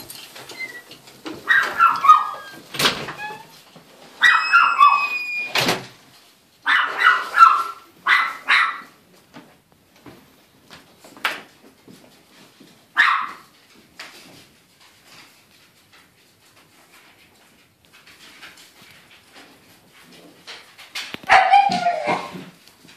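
A dog barks repeatedly in irregular bursts, with loud clustered barks early on, a long quieter gap with scattered knocks and clicks, then a final barking burst, all close to the microphone.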